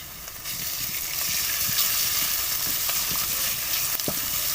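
Garlic-ginger paste sizzles and fries steadily in a hot pan, a dense continuous hiss with small crackles and occasional stirring clicks.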